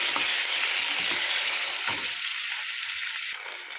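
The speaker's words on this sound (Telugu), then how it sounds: "ఇదైతే ఫ్రై అవుతుంది" Ginger garlic paste fries in a pan for palak aloo curry: a loud, steady, close sizzle fills the clip, with a few soft stirring knocks and a slight drop in intensity near the end.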